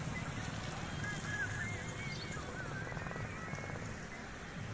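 Rain falls steadily on a road as a convoy of pilgrims rides bicycles toward an ashram near Hardoi, a soft even hiss mixed with faint background murmur and low rumble.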